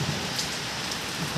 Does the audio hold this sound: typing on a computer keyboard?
no